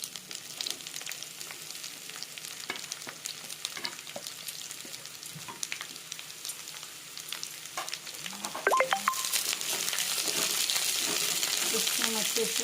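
Chopped onions and green chillies fry in a hot pan for chili chicken, giving a steady close sizzle with scattered clicks and scrapes of stirring that swells louder near the end.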